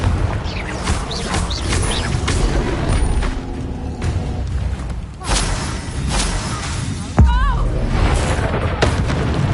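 Confringo blasting spell detonating in Hogwarts Legacy, a loud booming burst with a sharp crack near the seven-second mark over continuous game combat noise and explosions.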